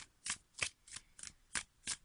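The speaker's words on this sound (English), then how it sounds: "And as I'm shuffling the cards," Tarot cards are shuffled by hand in quiet, rhythmic bursts, about six crisp riffles spaced evenly and heard close up with no talk.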